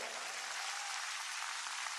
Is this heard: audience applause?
yes